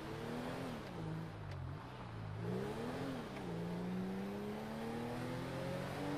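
A GTA V car engine hums steadily as the car drives, its pitch rising and falling gently with the throttle. It stays fairly close and even, with no talking.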